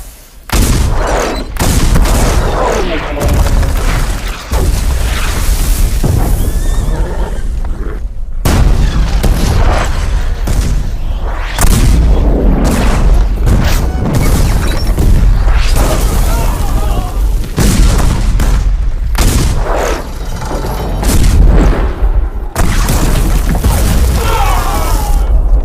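Cannon fire at a fort gate in a Hindi war movie: repeated heavy booms and blasts in quick succession, loud and close, mixed with crashing debris and battle noise, with voices heard between the bursts.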